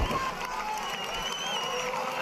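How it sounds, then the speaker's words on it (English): A large roadside crowd cheers a Swiss rider on a technical descent in the final kilometres of Tour de Suisse stage 5, a steady roar of cheering and noise. "look at the size of that crowd out to cheer on the Swiss rider"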